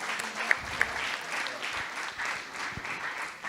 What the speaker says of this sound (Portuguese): Dê um aplauso para o Ninão e para o Fabinho